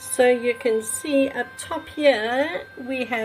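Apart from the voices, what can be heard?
No distinct noise like a dog, phone or traffic.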